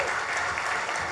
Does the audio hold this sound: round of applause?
yes